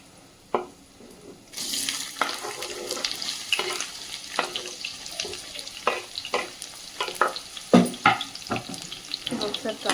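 Onions for a homestyle chicken curry hit hot oil in a pan with a sudden loud sizzle, then keep frying while a spoon scrapes and stirs in irregular clacks and bursts.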